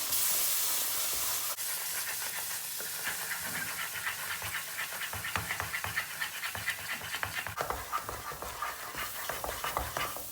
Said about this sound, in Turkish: Helvamızı karıştırmaya başlıyoruz.